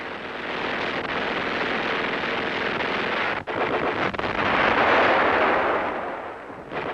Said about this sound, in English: enemy artillery fire zeroes in on the roads leading eastward to the Rhine